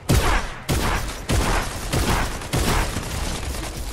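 Gunfire in the video game Fortnite, with rapid loud shots in several dense bursts about every half second to second, close and continuous across the clip.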